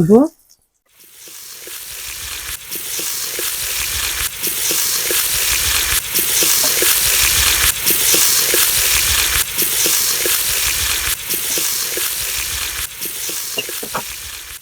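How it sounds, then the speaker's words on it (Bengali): Chicken vegetable rolls fry in hot oil, a steady, bright sizzle building after a short quiet start and holding loud and close, with faint bubbling and a brief voice at the very beginning. "আমি এখন ভেজে নিব তেলটা গরম হয়ে গিয়েছে"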